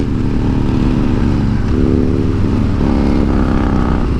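A 2018 Harley-Davidson Street Bob's engine runs steadily close by, a loud, thick, continuous rumble with slight shifts in pitch as it idles and revs a little, with no voices over it.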